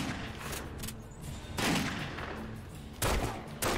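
Gunfire in The Godfather video game: several loud, sharp shots in separate bursts with short pauses between them, up close over a rough background din.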